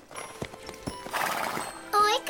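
Horses in a cartoon: hooves clip-clop with a few sharp knocks, then a loud whinny, with light jingling throughout.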